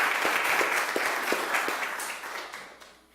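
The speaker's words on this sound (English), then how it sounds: "I'd like you to give a rousing round of applause to the students from Suriname" Audience applause at an international law moot competition awards ceremony, a dense round of clapping from a crowd indoors that starts full and gradually fades out over a few seconds.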